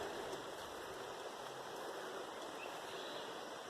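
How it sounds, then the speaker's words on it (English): Smith River flowing through a rainforest, a steady broadband rush of moving water close by, continuous and even throughout with no talking. "This is Smith River."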